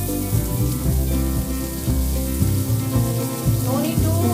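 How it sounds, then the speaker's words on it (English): Onions hitting hot oil with cumin seeds, curry leaves and green chilies, frying for a sweet corn chaat: a steady close sizzle with some stirring, no voices. "Add the onions."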